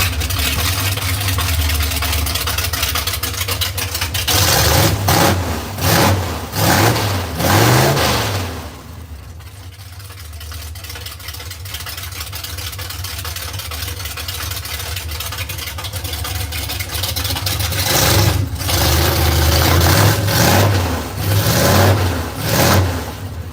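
A custom vehicle fitted with seats fabricated from a tractor seat revs its engine loudly and close by, surging in repeated bursts of throttle, then settling to a lower idle before revving hard again near the end.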